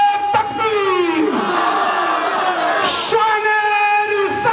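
A large crowd at a Khatm-e-Nabuwat religious conference roars a loud, sustained collective chant in answer to a slogan. Many voices merge into one continuous bellowing shout that fills the whole moment.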